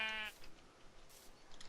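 A sheep in the Minecraft video game gives a single short, clear bleat at the start, followed by faint background noise.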